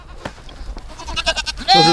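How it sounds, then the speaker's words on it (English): Pygmy Kiko goats bleating on a farm, a loud close bleat rising at the end after quieter animal calls and rustling. "These are the pygmies. Pygmy Kikos."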